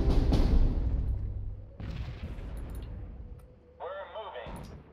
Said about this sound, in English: I'm beginning to bring in a lot of artillery